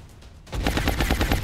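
Rapid double-tap gunfire with heat ammo in XCOM: Long War, a quiet lull giving way to a loud burst of sharp repeated shots in a quick steady rhythm, with no talking.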